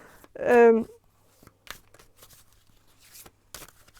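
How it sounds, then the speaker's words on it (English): Tarot cards are shuffled in short, crisp papery rustles and snaps spread across a few seconds, preceded by a brief voiced sound close to the microphone. "I'm gonna shuffle some more cards"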